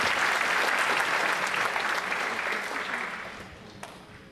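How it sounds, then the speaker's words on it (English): A room full of people at an award ceremony claps steadily, the applause gradually fading out toward the end. "Please give Arussalam and UMB a hand of applause."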